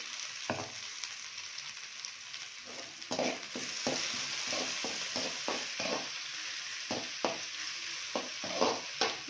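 Curry leaves fry in oil for chicken majestic, a bright crackling sizzle punctuated by frequent rhythmic scrapes and taps of a spatula stirring the pan up close.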